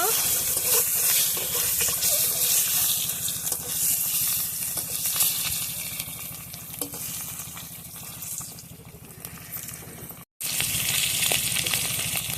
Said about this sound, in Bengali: মধ্যে লবণ হলুদ দিয়ে দিলাম এখন নাড়িয়ে নেব